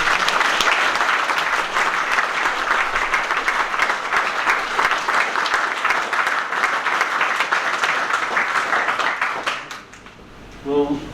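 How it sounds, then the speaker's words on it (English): An audience at a Catholic talk-and-beer gathering breaks into loud, sustained applause that fills the room for about ten seconds, then fades out as a voice begins speaking at the end. "Can we give a round of applause to..."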